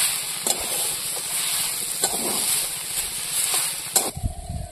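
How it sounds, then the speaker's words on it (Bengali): Dried winter cabbage curry with garam masala sizzles in a pan while a spoon stirs it, with soft steady frying hiss and a few sharp scraping clicks, ending in a brief clatter. "এবার একটু ভালো করে নাড়াচাড়া দিয়ে নেব"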